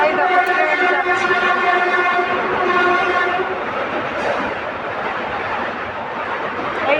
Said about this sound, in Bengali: তাই দেখো ট্রেন যাচ্ছে